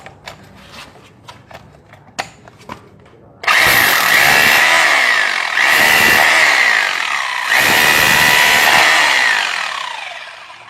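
An Enzo 2-26 corded rotary hammer drill in chisel mode starts after a few light clicks and handling knocks, then hammers loudly and continuously up close, with short dips in power between bursts.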